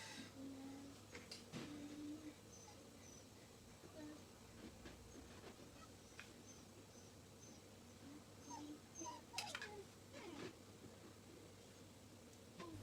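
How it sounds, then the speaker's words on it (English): A dog moans and whimpers faintly at home while smelling Christmas dinner cooking, soft high whines coming in short scattered bursts over a quiet room hum. "My dog moans and she can smell it in the background."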